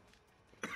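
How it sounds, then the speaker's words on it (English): A single short, sharp cough rings out near the end during a Search and Destroy game session, following a quiet stretch with no talk. "Stop coughing."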